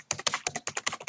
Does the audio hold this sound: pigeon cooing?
no